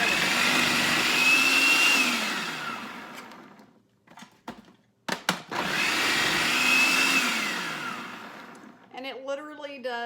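A kitchen machine shreds cabbage wedges, roaring loudly for about four seconds, stopping with a few clunks, then roaring through a second long pass before trailing off as a voice begins talking.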